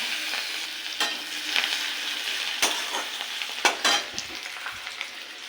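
A dried red chilli, bay leaf, nigella seeds and crushed garlic fry in hot oil, a close steady sizzle with a few sharp spits and spatula scrapes as they are stirred.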